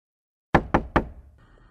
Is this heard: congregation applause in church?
no